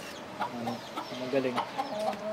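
A hatch gray gamecock, about two years old, clucks in short bursts close by while someone talks over it.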